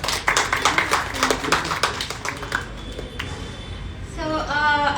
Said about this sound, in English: So give it up, guys. Clap.